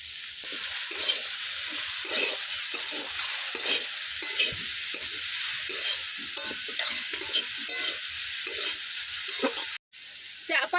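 Vegetable filling for veg momo, made with winter vegetables and no added water, sizzles and fries in a pan with repeated scraping stirs, close and steady throughout, with a brief cutoff near the end.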